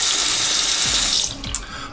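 Strong tap water gushing into a cruise ship cabin bathroom sink, a loud steady rush that thins out near the end as the flow eases.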